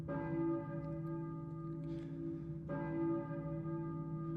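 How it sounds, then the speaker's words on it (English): A church bell in the video game Silent Hill tolls twice, each strike ringing out with a rich, sustained metallic hum that lingers and slowly decays, heard alone without talk. "I hear a church bell."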